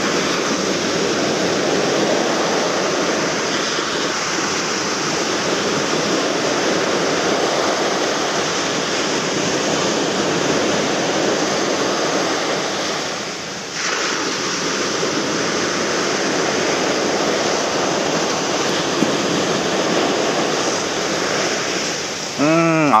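Ocean waves break steadily on a sandy surf beach during shore fishing, a loud continuous roar and hiss of surf with gusting wind on the microphone and no talk.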